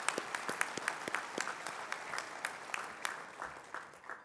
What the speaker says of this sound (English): I'm going to give you a round of applause for myself.